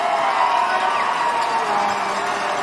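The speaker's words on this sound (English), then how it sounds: "He must be feeling the pressure of the crowd now as they cheered him on." A roadside crowd in a finishing town cheers cyclist Leipheimer during the 2011 US Pro Cycling Challenge. The cheering and shouting form a continuous wash of mid-level noise with no clear breaks.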